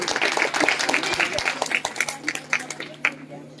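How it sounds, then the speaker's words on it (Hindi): Applause for guests at a Republic Day award ceremony, a crowd clapping in uneven, somewhat sparse bursts at moderate distance, thinning toward the end. "एक बार जोरदार तालियां हमारे सभी अतिथियों के लिए।"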